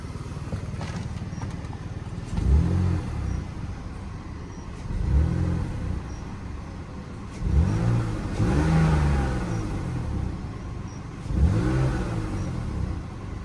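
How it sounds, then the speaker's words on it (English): A 2002 BMW 530i E39 with an exhaust leak, idling with the hood open, revs up four times in bursts that rise and fall back to a steady idle, heard up close with no talking. "I'm gonna give her a couple revs real quick."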